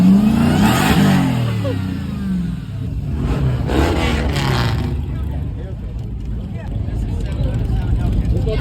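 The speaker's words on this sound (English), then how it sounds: "That got a Hellcat motor in it?" A car fitted with a Hellcat engine revs loudly at a Caffeine & Octane car meet, a deep, rumbling roar that surges and holds steady while people talk nearby.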